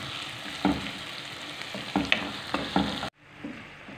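Peppers and onion frying in a pan, with a steady low sizzle broken by several brief stirring scrapes and clinks, close and moderately loud, and no talk.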